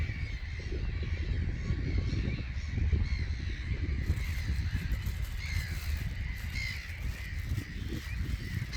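Repeated harsh squawking seagull calls, several gulls calling over one another against a busy outdoor background with ducks nearby, fairly close.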